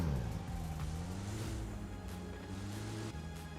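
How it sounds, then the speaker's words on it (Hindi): A car driven in a third-person battle royale shooter (PUBG, Pochinki map) gives a steady engine drone with revving pitch shifts, loud and continuous without speech. "गाड़ी लेता हूँ।"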